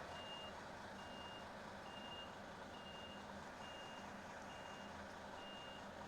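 A big truck reverses with its backup alarm beeping steadily at an even rhythm, about seven beeps, over a constant low engine rumble heard from a moderate distance.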